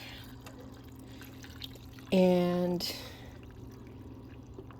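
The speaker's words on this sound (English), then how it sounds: "I'm going to go ahead and add water" Water is poured from close by into a seafood boil with potatoes in a Gosun Fusion solar cooker, a short, bright splashing burst of under a second against quiet background.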